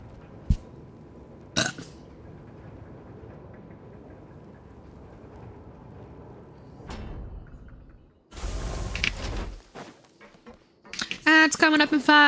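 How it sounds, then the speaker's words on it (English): Several burps sound during a Genshin Impact-style quest stream, short low eructations spread between quiet stretches, with a longer rumbling burst and some clattering noise later on. "I hope you're having a good time with your premium background noise with burps"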